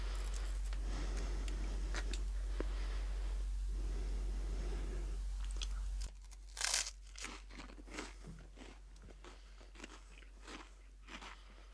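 Crunchy crackers from a Slovenian 24-hour military ration being bitten and chewed up close, with a steady low hum under the first half, then sharp crackling crunches and bites in irregular bursts.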